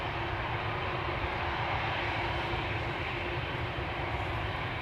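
A Qatar Airways airliner departing Amsterdam Schiphol toward Doha gives off a steady, close jet engine roar with a dense mid-range rush and low rumble that holds at an even level, with no voices.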